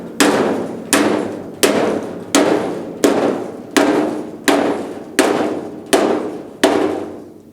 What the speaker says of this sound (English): we're just going to give it a couple of good whacks